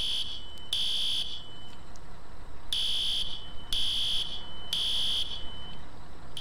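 A building fire alarm sounds in repeated high electronic bursts, four or five short pulses with gaps between, over a steady background hum and no talk.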